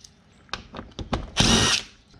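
A power drill works briefly on 7mm screws underneath a Corvette, with short bursts of whirring followed by one longer, louder run, close by and with no talk.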